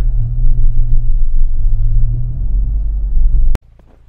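A Bronco or 4Runner backs up through snow over mud, its engine rumbling loud and close with low revving surges for a few seconds before cutting off abruptly.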